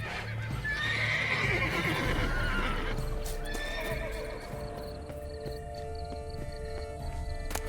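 Horse neighing and whinnying with clip-clopping hooves in The Witcher 3: Blood and Wine, a loud whinny up front over steady hoof steps, fading into quieter ambience with faint insects.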